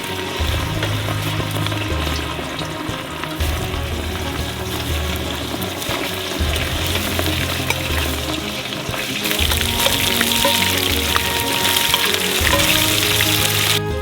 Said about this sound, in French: Et faites-la frire littéralement pendant quelques minutes, jusqu'à ce qu'elle devienne un petit peu dorée.